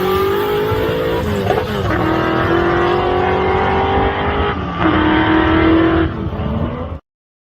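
A race car engine revs hard during a race, a loud continuous roar whose pitch climbs and drops through gear changes, with a faint squeal of tires.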